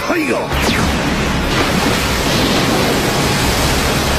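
A Doton Doryu Taiga mud river jutsu effect from Naruto unleashes a loud, rushing roar like a surging torrent. It opens with a few swishing sweeps and then settles into a dense, steady watery wash that fills the rest.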